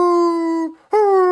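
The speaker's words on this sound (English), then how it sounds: "Multiple howls from behind, more than half a dozen." Sustained, loud canine howls used as a tabletop game sound effect, sounding close; a long steady howl breaks off briefly and then resumes with another, with no talk over it.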